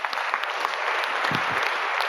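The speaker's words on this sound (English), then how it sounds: "please an applause for Dark Matter." An audience applauds at the closing ceremony and CTF prize giving of the HITB 2019 Amsterdam security conference. Dense, continuous clapping fills the hall at a steady level.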